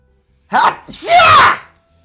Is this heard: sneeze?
yes